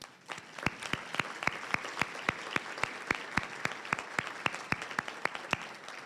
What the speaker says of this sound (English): So if you all would please stand for a round of applause.